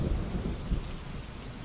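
Steady rain falls continuously with low rumbling thunder beneath it, a dense, even wash of drops on surfaces with no voices.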